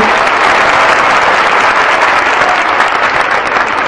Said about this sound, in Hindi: ढंग से बजाओ ताली